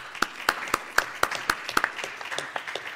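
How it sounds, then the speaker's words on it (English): A conference audience applauds panelists at a session on transcoding, with a sparse, fairly even run of distinct claps about four per second, moderately near, over a soft background. "A round of applause, please,"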